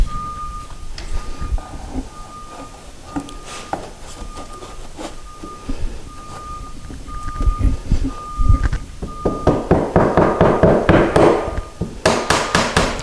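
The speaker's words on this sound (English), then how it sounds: "And just tap it in until it's flush with the bottom of the door." A glued wooden strip is tapped with a hammer into the bottom of a bypass sliding closet door, sparse knocks at first, then a quick run of sharp close taps near the end.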